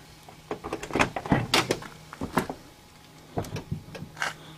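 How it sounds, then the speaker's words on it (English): A 1986 Chevy C10 pickup door opens in a few short clicks and clunks of the latch and hinge, fairly close, with a steady low hum underneath and no talk. "Let me open the door, give you a quick look."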